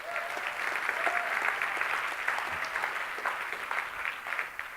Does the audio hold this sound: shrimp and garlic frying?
no